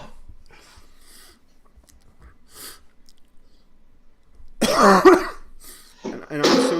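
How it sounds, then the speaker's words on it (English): A few soft coughs early on, then a burst of loud, harsh coughing close up, followed by more heavy coughs. "I'm so sorry about my coughing and everything."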